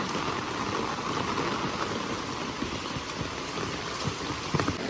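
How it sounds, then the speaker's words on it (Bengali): Rain falls steadily over a garden with young squash plants, a dense, even patter of drops on leaves and surfaces, close and continuous with a few louder splashes near the end. "আর সেই বৃষ্টি হচ্ছে"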